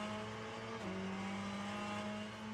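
Race car engine in Le Mans Ultimate at Sebring, a steady droning hum that drops in pitch with a gear change, moderately quiet and continuous with no talk.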